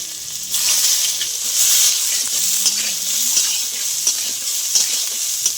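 Soybean chunks frying in a pan with cinnamon, cardamom, cumin seeds and bay leaves: a loud, constant bright sizzle with the scrape of stirring running through it, close up and without any voices.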